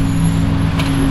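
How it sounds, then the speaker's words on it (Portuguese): Road traffic noise with a car passing by, a steady loud engine rumble and low hum filling the short span, with a faint brief hiss near the end. "Olha o carro ali, rapaz."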